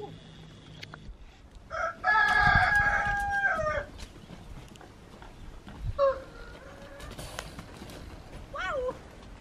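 Chickens cluck and a rooster crows in loud bursts inside a cave near Montepertuso, Positano, with quieter clucks in between and a faint background hum.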